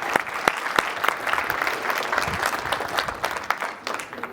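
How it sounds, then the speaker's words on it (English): An audience at a short-term-rental industry talk gives a round of applause, a steady burst of crowd clapping lasting several seconds. "Round of applause."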